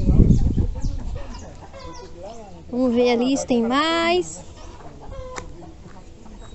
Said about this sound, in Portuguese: Tem mais galinha cantando por lá.